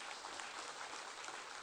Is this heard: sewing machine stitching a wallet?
no